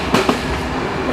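Passenger train running through the Turkish countryside toward Ankara, a steady rumbling roll with a couple of quick wheel clacks, heard close from on board.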